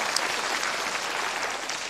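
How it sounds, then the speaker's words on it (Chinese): A comedy-show audience applauds warmly, a dense, even burst of clapping that fills the short stretch with no voices above it. "谢谢各位观众朋友们的掌声啊"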